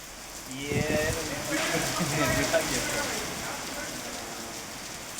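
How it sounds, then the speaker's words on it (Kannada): Heavy rain pours steadily during a storm in Tumkur, a dense, continuous broadband wash of drops on surfaces at moderate loudness, with indistinct voices briefly audible in the first seconds. "ಗುಡುಗು ಗಾಳಿ ಸಹಿತ ಮಳೆ ಸುರಿತಾ ಇದೆ."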